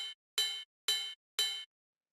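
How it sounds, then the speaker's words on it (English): A live ride cymbal sample struck four times at a steady pace, each hit a bright metallic ping with a short ringing tail, heard alone and fairly quiet. "This is just like a simple kind of like live ride sound"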